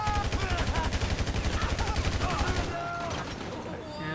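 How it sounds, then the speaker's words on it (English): Insurgent armored vehicle's mounted main gun firing in GTA Online, a fast rhythmic burst of heavy shots that runs steadily, then stops abruptly and leaves a quieter rumble with faint distant noises. "We got hit by the darn insurgent main gun"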